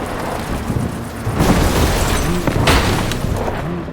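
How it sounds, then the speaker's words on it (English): A thunderstorm in the video game Cyberpunk 2077, with deep rumbling booms rolling over a constant roar of wind and rain, loud and near, swelling around the middle of the clip. "That is one hell of a storm."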